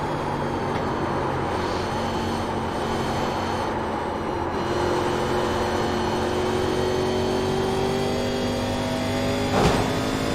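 Race cars in iRacing NASCAR 1987 Legends at Darlington, a steady loud in-car engine drone holding high revs, with a pitch rising gradually and a brief sharp burst near the end.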